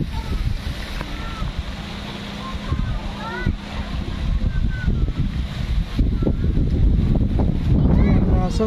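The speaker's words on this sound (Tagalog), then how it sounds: "So ngayon po malakas ang hangin." Strong wind buffets the microphone over water and surf, with people talking now and then.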